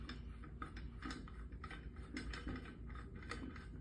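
A wrench tightens an air horn regulator onto an air bottle with a steady, rapid run of small ratcheting clicks, faint and close, continuing throughout without speech.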